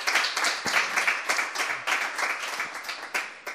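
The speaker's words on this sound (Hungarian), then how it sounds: "és azt hiszem, hogy a taps az jogos." Audience applause at a talk event honoring a folk dance choreographer, made of distinct, fairly close claps in an uneven rhythm, moderate in level, with no voices over it.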